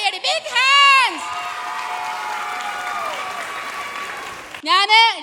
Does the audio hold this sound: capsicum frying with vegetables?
no